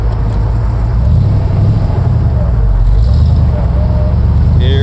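A 1965 Ford Cobra's engine drones loud and steady from inside the car during a pull, a dense low rumble that holds constant with no break.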